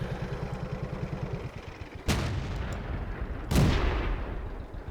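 A Renault FT tank in World of Tanks fires its gun twice, two sharp, loud blasts about a second and a half apart, each followed by a rumbling tail over a steady engine drone.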